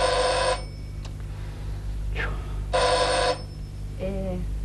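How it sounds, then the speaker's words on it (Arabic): A doorbell rings indoors in a domestic scene, sounding twice as loud, long electric bell bursts over a constant low hum. Brief faint sounds fall between the rings. "جرس الباب. سيبيه يرن."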